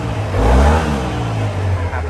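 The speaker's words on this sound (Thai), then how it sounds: "เครื่องยนต์เดี๋ยวลองเร่งให้ฟังเสียงก็ดู" A white 2015 Yamaha TMax 530 scooter's engine revs up close, swelling to a loud peak then easing back toward idle, with a steady low drone underneath and a brief second blip near the end.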